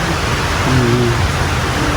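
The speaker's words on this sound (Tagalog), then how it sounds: "Yan, bumuhos na po mga kalingap yung ulan" Heavy rain pours down in a constant loud hiss on a patchwork stone house, with a faint low hum drifting underneath.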